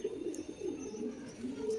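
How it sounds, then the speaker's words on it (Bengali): A small, restless lemon-eyed Kalanka pigeon coos softly in low, repeated rolling calls, fairly close, over faint background noise. "এই যে লেবু চোখ, খুব ছটপটে পায়রা"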